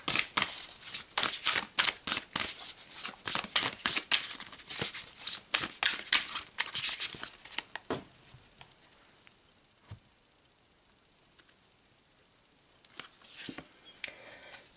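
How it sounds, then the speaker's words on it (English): Tarot cards are shuffled close up in a quick, steady run of crisp riffling flicks for about eight seconds. A quiet pause follows, then a few soft card taps. "Let's pull some more cards."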